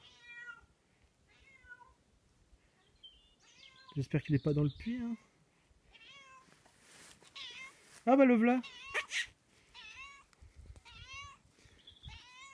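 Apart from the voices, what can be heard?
cat meowing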